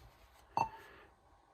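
A single short electronic beep from a car stereo in a Chevrolet C10 sounds once, faint and clipped, against quiet background noise.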